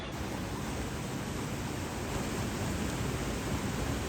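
A loud river flowing near a walking path outdoors, heard as a steady, broad rushing hiss of water that stays constant and close throughout, with no voices.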